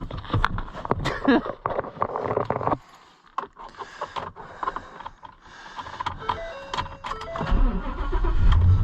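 Ford Super Duty truck engine cranks and fires up, a burst of starter noise and engine roar, then a quieter stretch with faint clicks and chimes before the idle swells up loudly.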